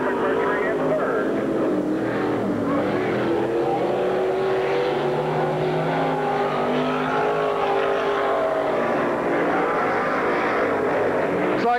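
Race cars roar around a dirt track in a continuous, loud engine drone that swells and fades slightly as they pass, with a commentator talking over it throughout.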